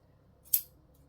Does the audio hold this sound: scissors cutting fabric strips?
yes